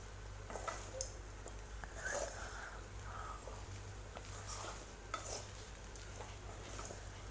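Potato rice is stirred in a pan, producing soft repeated scraping and light sizzling strokes that are quiet and close, with no voices.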